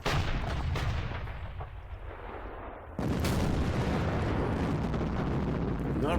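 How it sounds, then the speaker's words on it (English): Heavy artillery fires on mortars in the Panzer Campaigns Kiev '43 wargame. A loud, rumbling barrage of booms fades, and a second dense burst of blasts starts halfway through and continues without a break. "I might want to fire like heavy artillery on the mortars."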